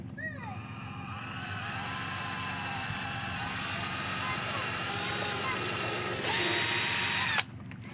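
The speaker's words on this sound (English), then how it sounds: "So I want to pre-drill a hole." A steady whine of a power drill pre-drilling a hole in wood for a horizontal beehive, running continuously, growing slightly louder toward the end before cutting off sharply.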